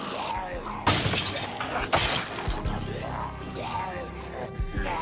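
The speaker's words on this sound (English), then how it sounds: "Those broken glass sounds will, I think, pull some more." Glass breaks and shatters in the zombie survival game Project Zomboid, with two sharp crashes in close succession over a busy background of in-game noise and a talking voice.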